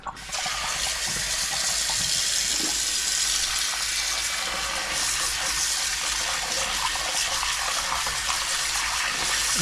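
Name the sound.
running tap water rinsing pork ribs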